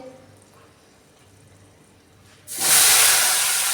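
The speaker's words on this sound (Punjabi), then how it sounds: "ਹੁਣ ਆਪਾਂ ਪਾਣੀ ਜਿਹੜਾ ਬਿਲਕੁਲ ਹੌਲੀ ਹੌਲੀ ਪਾਵਾਂਗੇ" A faint quiet stretch breaks suddenly into a loud, sustained hiss and sizzle as water is poured into roasted semolina in a hot pan for halwa, continuing to the end.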